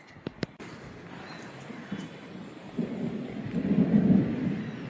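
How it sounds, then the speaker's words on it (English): Rain patters steadily in the open while a low thunder rumble swells and builds toward the end, after a couple of sharp clicks at the start. "all of a sudden today it started raining"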